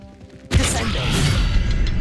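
A heavy magical slam from the Descendo spell in Hogwarts Legacy crashes in abruptly after a quiet moment, then rolls into a dense, sustained rumble and clatter of game effects that stays loud to the end.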